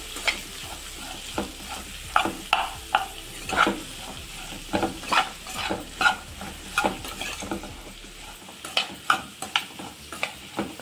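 Onions frying in a pan with salt and turmeric are stirred with a utensil, making repeated scraping strikes in an irregular rhythm over a steady sizzle for a tomato drumstick curry. The sound is close and clear, with no talking.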